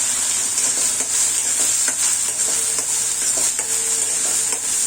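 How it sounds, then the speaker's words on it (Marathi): A ground spice masala sizzles in hot oil with mustard seeds and hing as horse gram curry is cooked, a steady close hiss with occasional spoon scrapes and stirring clicks, and no voices. "मिक्सरमधून काढलेला मसाला घातला मसाला छान परतून घेऊ"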